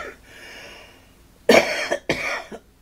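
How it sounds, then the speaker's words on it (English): A person coughs twice in close succession, two loud, harsh bursts right near the microphone that follow a quiet stretch. "Excuse me, I'm going to cough."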